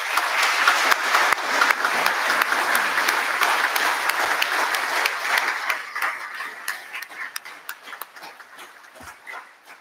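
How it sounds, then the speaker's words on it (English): A school audience applauds loudly at the close of a Cookstown High School carol service, a dense round of clapping that thins out toward the end. "show your appreciation for everyone who put on this splendid carol service this"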